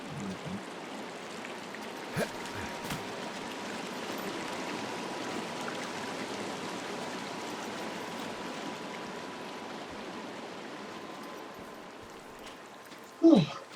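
Steady rushing flow of a creek in the game Firewatch, broadband watery hiss running continuously and fairly even, with a brief louder knock near the very end.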